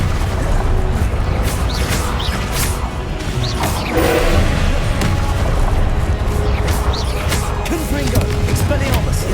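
Spell effects fire in Hogwarts Legacy, loud bursts, whooshes and crashes that follow each other quickly and ring out over a voice speaking throughout.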